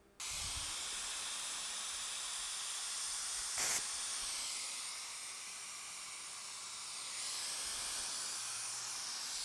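Steady high hiss of a Harbor Freight paint spray gun running continuously during a test spray, with a brief sharper burst partway through, close and fairly loud with no talking.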